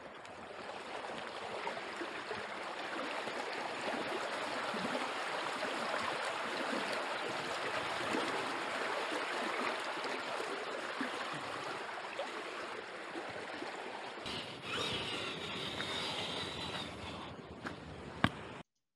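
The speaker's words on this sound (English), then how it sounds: "Just come down the path, found this awesome stream." Piesse Brook in Kalamunda National Park flows over rocks as a steady, full rushing babble close by. It continues unbroken for the whole stretch, with a few faint knocks near the end.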